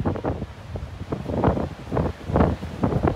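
Strong wind gusts batter the microphone at a hilltop viewpoint in Victoria, BC, producing loud, rumbling buffeting that swells and drops in quick, irregular surges with no talking.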